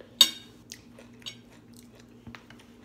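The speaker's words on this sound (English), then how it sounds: "That crunching sound." Chewing on broccoli and hash browns, with one sharp crunchy bite followed by a few softer crunches and mouth sounds, close and otherwise quiet.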